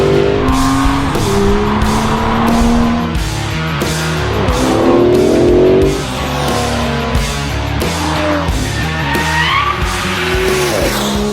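Aston Martin DB11 prototype engine on a race track, revving hard with rising and falling gear pulls, loud and close, with tire squeal and skidding mixed in throughout.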